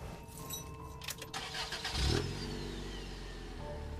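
A muscle car engine starts with a brief cranking burst, then settles into a steady, moderately loud idle rumble close by.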